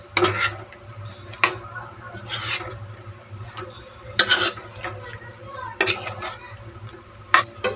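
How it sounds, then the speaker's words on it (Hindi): A spoon scraping and stirring stuffed eggplant (bharwan baigan) in a pan, with several separate scraping strokes over a low steady hum. "एक बार फिर इसको मैं चला देती हूँ।"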